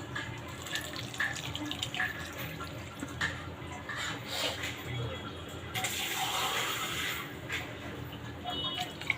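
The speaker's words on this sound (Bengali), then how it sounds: "পানি অ্যাড করে দেবো" Water pours steadily into a pot of rohu fish-head and moong dal curry, a quiet, continuous rushing trickle that swells briefly near the end.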